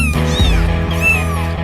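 Kittens meowing in overlapping high, wavering cries, fairly close and loud over a steady low hum, several calls packed into a short stretch.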